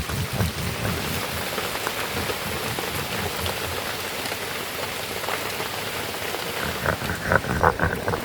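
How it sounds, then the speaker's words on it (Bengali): Light rain falling on a farm, a dense steady patter of drops on surfaces close by, continuous and fairly loud, with no voices over it. "ওই একটু একটু করে বৃষ্টি আসছে"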